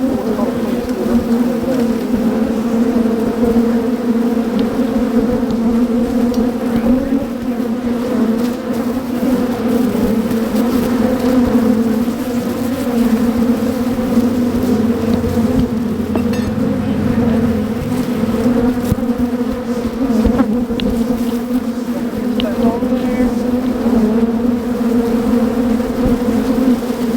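Honeybees swarming around an open hive during a first inspection, a steady, dense, close buzzing drone that holds without pause throughout.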